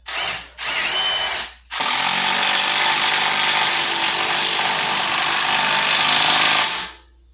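Milwaukee Fuel stubby impact wrench driving a 17 mm hex 3-inch lag screw into wood with no pilot hole: two short loud hammering bursts, then a long sustained rattling run that stops abruptly.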